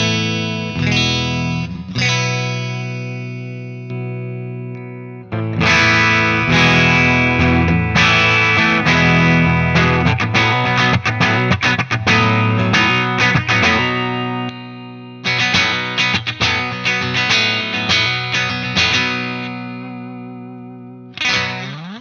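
A Fender Player Series electric guitar with both humbuckers split, played with distortion through chords and quick riffs, loud and sustained with short breaks between phrases and no talking.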